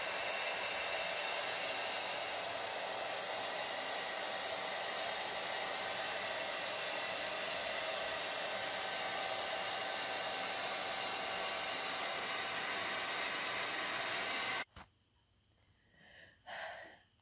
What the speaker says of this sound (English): And that's how you record the blow dry sounds.